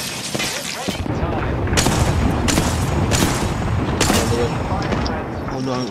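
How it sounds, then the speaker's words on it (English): Loud gunfire in the battle royale game Apex Legends, bursts of rapid shots and heavy booming impacts filling the whole stretch, with a player talking over the shooting. "Oh no, somebody else is shooting me."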